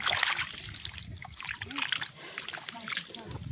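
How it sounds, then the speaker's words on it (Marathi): Clear water trickles and splashes on a farm in irregular patters and spurts close by, with faint background movement. "जरा निर्मळ पाणी खाली."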